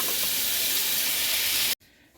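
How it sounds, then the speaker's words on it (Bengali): Bread gulab jamun boiling in sugar syrup gives a steady close hiss and sizzle, continuous and fairly loud, cutting off abruptly near the end. "এই যে বন্ধুরা দেখুন, একটু ছেড়ে দেবো, দিয়ে একটু ফুটিয়ে নেব"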